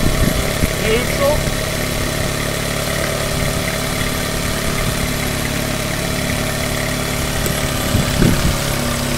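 A Yamaha 9.9 outboard engine idles steadily while warming up, a close, even mid-pitched hum that runs throughout with light mechanical clatter near the end.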